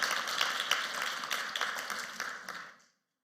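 A church congregation breaks into a short round of steady clapping, which stops abruptly after a few seconds.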